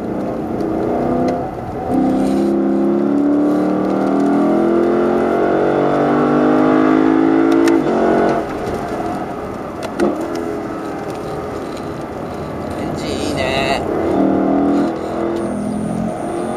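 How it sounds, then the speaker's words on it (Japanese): A Lexus LC500's V8 engine roars and revs steadily up and down at close range on a race circuit, with a brief lull and gear changes, no voices. "V8 サウンドにドリキンもご満悦"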